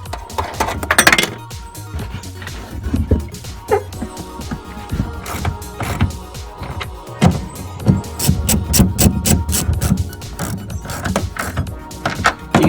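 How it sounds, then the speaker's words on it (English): Bolts being reinserted into the tail light housing of a 2011 Ford Taurus SEL: repeated small metallic clinks and plastic knocks at irregular intervals, close up, with brief handling noises between them. "And then put your bolts back in."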